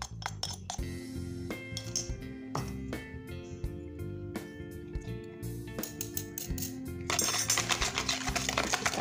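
Pudding mixture is stirred in a metal pot, giving repeated clinking scrapes and taps of a utensil against the pot, steady and close, with a brighter hissing wash toward the end.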